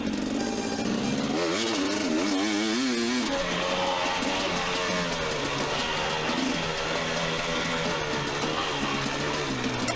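Dirt bike engine riding laps at Sutter, a continuous buzzing two-wheel motor that revs and warbles up and down through throttle changes, steady and fairly close throughout.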